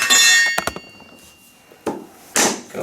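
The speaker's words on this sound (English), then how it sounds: "And then you can go back through with the hammer" A hammer taps luxury vinyl flooring planks into place, giving a few sharp, close knocks and clinks separated by short pauses.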